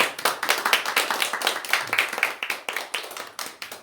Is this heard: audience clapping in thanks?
yes